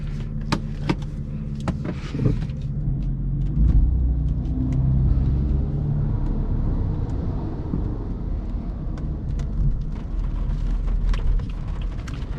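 A 2016 BMW M4 driving on a wet, rainy road, its steady low engine rumble and road noise continuous and close from inside the car, with a few small clicks early on.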